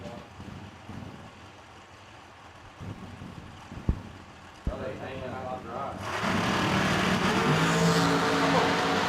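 Drag race cars at a Verge Quick Outlaw Series event in Bowling Green run down the strip, their roar rising from far off into a loud, dense blast in the second half while a track announcer speaks over it.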